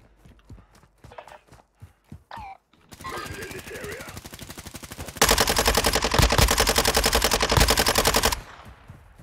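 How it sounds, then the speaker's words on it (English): Video game gunfire: rapid automatic bursts that build into a long, loud sustained volley, preceded by scattered single shots and game effects, with voices talking over parts of it. "Our guys are shooting somebody."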